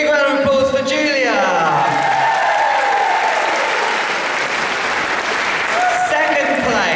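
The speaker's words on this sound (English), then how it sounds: "Big round of applause for Julia." Steady crowd applause with a few whoops at a pole dancing championship awards, greeting a placed dancer in the expert category, loud and continuous while a voice talks over the start and end.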